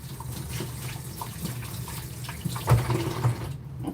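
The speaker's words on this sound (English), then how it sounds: "Let me rinse my hands off." Water runs steadily from a kitchen tap as hands are rinsed under it while a creamy chicken stew is being cooked, a moderate continuous splashing over a low room hum.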